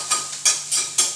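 Grated coconut is stirred as it roasts in an oiled pan, with four regular scraping, sizzling strokes close by and no talking.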